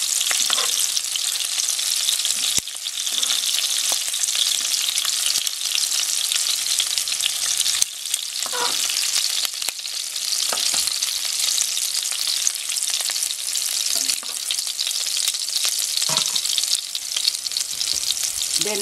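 Onion sizzles and fries steadily in a hot pan for asadong tilapia, a dense continuous crackle with occasional stirring scrapes.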